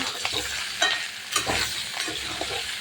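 Fried potatoes and fish turned in a sizzling pan, with several quick spoon scrapes over a continuous crackling fry, close and moderately loud, no voices.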